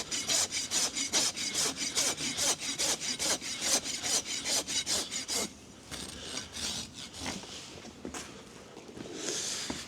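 A farrier rasps a horse's hoof wall to remove a toe bulge: rapid, loud, rhythmic back-and-forth strokes for about five seconds, then slower, softer scraping.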